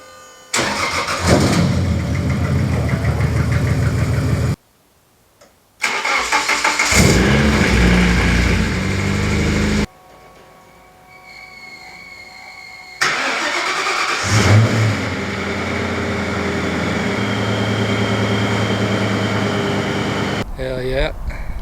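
Nissan 240 and Z cars starting and revving in a garage, with loud mid-pitched engine bursts separated by brief silences, then steady idling with a ventilation-like hum; several engines fire up in turn close to the microphone.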